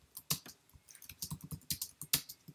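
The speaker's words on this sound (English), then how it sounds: "we can start typing" Typing on a computer keyboard, with an irregular run of crisp, close key clicks and a few louder presses in a quiet room.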